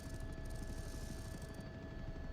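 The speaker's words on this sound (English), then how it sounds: "Come on, fly, helicopter." A helicopter in the video game Battlebit flies with a loud, steady, close rotor and engine drone that holds for the whole stretch without a break.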